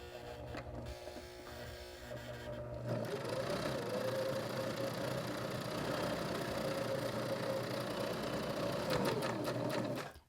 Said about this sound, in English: Now we're going to top stitch down our handles